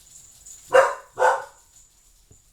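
Two loud barks from a dog next door, spaced about half a second apart, with a faint short sound trailing at the end and no talking.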